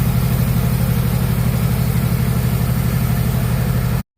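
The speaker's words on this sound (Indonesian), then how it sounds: "Nah seperti itulah ya suara mesin penggilingan padi seperti ini." A steady, loud mechanical drone with a low rhythmic thrum, a rice milling machine grinding paddy rice continuously nearby, cutting off abruptly at the end.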